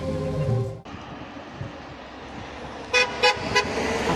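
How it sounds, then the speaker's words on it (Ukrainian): Steady traffic rumble from passing cars in Myrhorod, Ukraine, then a car horn toots three short times in a quick series near the end, honking in support. "Автомобілі, що проїжджали повз, сигналили на знак підтримки"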